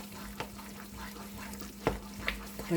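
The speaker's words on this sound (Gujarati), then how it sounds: "આ રીતે આપણે હલાવીએ એટલે ખાંડનું પાણી છૂટી જાય" A short stretch of stirring sugar into a milk-powder mixture in a pan, with a few soft scrapes and knocks over a constant low hum and no talking.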